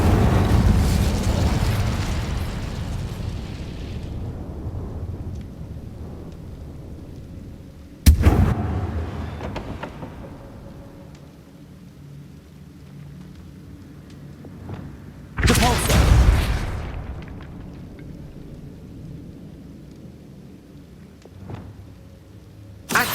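Fiery spell blasts from the Incendio charm in the Hogwarts Legacy video game, two loud whooshing bursts standing out over a rumbling battle background.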